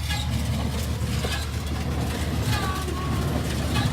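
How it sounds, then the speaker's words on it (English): A tractor-pulled hay baler rolls over piles of hay in a field, a steady loud low engine drone with continuous mechanical rumble and clatter, no talk. "what this tractor does now, or this implement, is it picks up all of the hay from the piles of hay"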